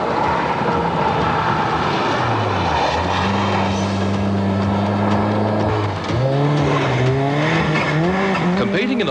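A Nissan Pulsar GTI rally car drives at speed on a Mount Gambier rally stage in 1993, its engine loud and close, revving and shifting through gears with rising and falling pitch.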